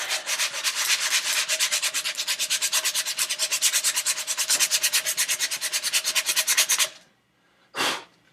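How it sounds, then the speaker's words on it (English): Sanding a custom BB gun part by hand, a fast regular back-and-forth rasping stroke repeated many times, close and loud, stopping abruptly, then one short final rub. "That's enough sanding for that."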